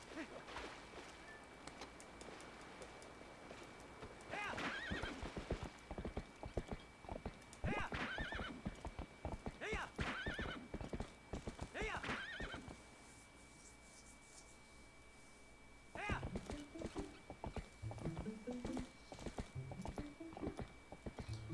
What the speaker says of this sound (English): There's my horse.